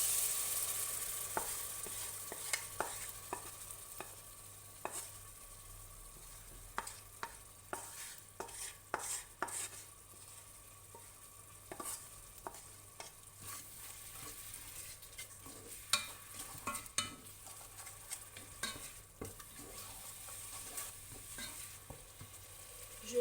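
Onions frying in a pan with spices, soy and leftover vegetable juices for coconut milk ramen, a quiet low sizzle broken by intermittent stirring scrapes and clicks of a utensil against the pan, with no talking.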